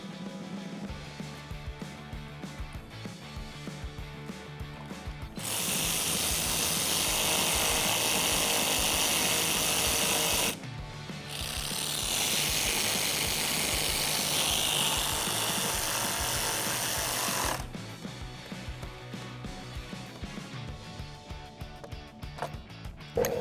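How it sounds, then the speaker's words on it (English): Two 10mm fender bolts on a Jeep Wrangler JL are run in with a power tool, heard as two loud whirring bursts of about five seconds each, separated by a brief pause and framed by quiet handling noises. "we can secure the 2 10mm bolts that are holding on our fender"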